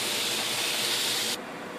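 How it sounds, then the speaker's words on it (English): Almonds fry in a pan with a splash of balsamic vinegar, giving a loud, steady hiss and sizzle that cuts abruptly to a softer sizzle near the end. "This is almonds you're frying. Got a little balsamic vinegar in it."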